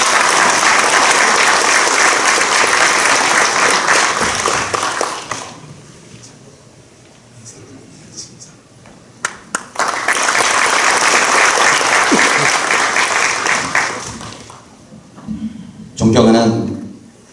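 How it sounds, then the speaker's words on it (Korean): Warm applause fills a church denomination's general assembly hall as a pastor candidate for vice-moderator is welcomed: a long burst of clapping, a quieter gap, then a second sustained round that fades out. "큰 박수로 모시도록 하겠습니다"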